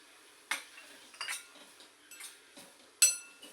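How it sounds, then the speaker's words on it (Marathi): A spoon stirs a pan of dill (shepu) vegetable with crushed peanut, giving a few soft scrapes and sharp metallic clinks against the pan, irregular and faint, with no talking. "नीट मिक्स करून घेऊया"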